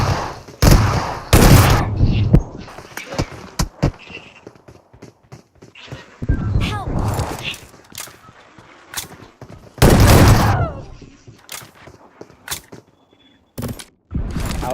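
Shotgun blasts ring out in a 2v2 shooter match with DBS and S12K shotguns, loud, sharp bursts arriving in separate clusters with quieter footsteps and movement between them.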